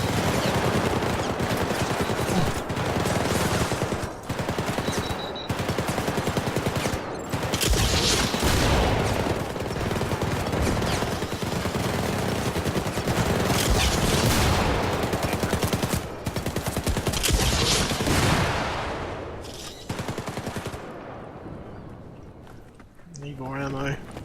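Sustained gunfire in the 2012 video game Syndicate: dense rapid bursts and automatic fire rattle almost continuously, loud and close, with a player talking over it at times before the shooting thins out at the end.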